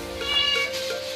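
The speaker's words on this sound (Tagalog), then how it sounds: "Nakaabang ka agad yung mga alagang pusa. Akala nila kakain na." Pet cats meow in quick succession while waiting for food as someone prepares ingredients in a home kitchen. A few close, clear meows overlap one another, with no talk.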